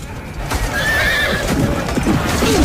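Horses neighing and hooves clip-clopping amid a battle at the walls of Mallorca in 1229, a dense rumbling din with a whinny rising above it and a voice talking underneath.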